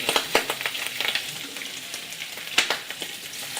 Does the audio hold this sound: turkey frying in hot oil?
yes